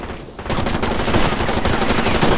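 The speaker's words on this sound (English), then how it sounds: "Grenade, I think." Explosive blasts and heavy gunfire from the military shooter game GRAW 2 (Ghost Recon Advanced Warfighter 2), a loud, dense burst of booms and shots lasting a couple of seconds with no talking.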